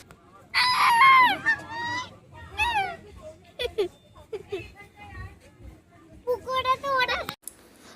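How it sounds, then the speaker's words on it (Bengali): Two geese honk loudly beside a small pond at a rural resort, bursts of harsh, repeated calls near the start and again toward the end, with quieter honks between. "তার পাশে দুখানা রাজহাঁস চিৎকার করে আমাদেরকে ডাকছিল"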